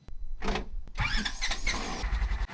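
The Red Bull Soapbox car's engine cranks and catches, rising into a loud, close, rough running rumble that carries on steadily to the end.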